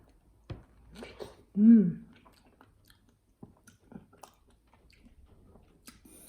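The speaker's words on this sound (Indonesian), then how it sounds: "Gitu aja langsung dimakan." Someone bites into and chews a juicy organic fruit, skin and all, giving a wet, close crunch and squish, set among brief bits of talk.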